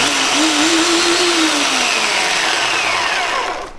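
Portland 9 amp 14-inch electric chainsaw with its chain spinning freely, a loud steady motor whine that holds then winds down as it coasts to a stop.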